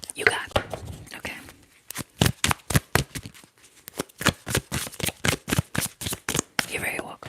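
Tarot cards being shuffled in a quiet ASMR setting: a run of about twenty crisp, rhythmic riffling bursts, close and soft, after a brief stretch of faint rustling, with no talking.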